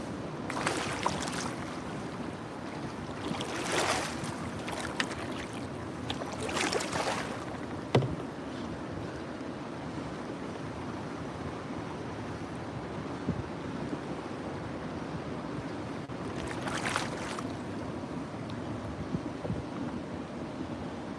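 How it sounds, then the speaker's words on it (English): Wind gusting outdoors beside high water at a catfish fishing spot, a low continuous rumble broken by several sharp bursts of buffeting against the microphone, with lapping water underneath. "It wasn't supposed to be this windy today"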